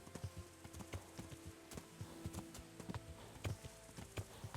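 A horse's hooves clip-clop at a steady walking rhythm in the medieval role-playing game Kingdom Come: Deliverance, the strikes quiet and even with no talk.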